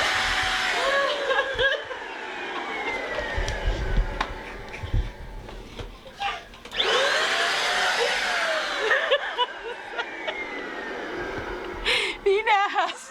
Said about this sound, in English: I'm gonna turn the vacuum on and mess this clip up